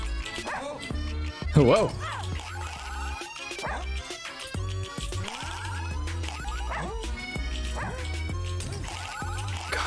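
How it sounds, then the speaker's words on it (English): Dog barks and yips from the Russian Subway Dogs video game sound repeatedly over busy game music and effects. A person talks over the game. "That's your fucking bark now."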